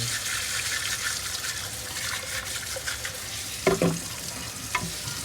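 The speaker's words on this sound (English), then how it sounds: "But you'll take this out, rinse it, ready to dry" Bissell pet cleaner part rinsed under a running tap: a steady close hiss of flowing water with splashing, and a couple of brief plastic knocks near the end.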